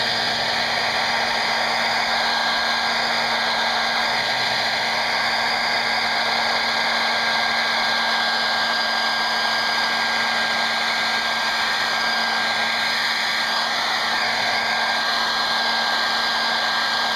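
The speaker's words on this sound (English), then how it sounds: "I'm going to take my dryer." A hair dryer blows steadily and loudly over a wet watercolor painting of a morning sky, a continuous whirring roar with no pauses.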